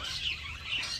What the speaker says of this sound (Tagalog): Wow, birds!